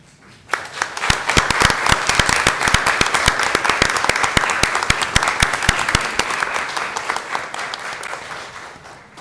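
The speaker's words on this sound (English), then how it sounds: "if you guys could stand up for us here today so that we can applaud Xander" An audience at a city council meeting breaks into applause, a dense run of sharp claps that swells quickly, holds and slowly tapers over about nine seconds.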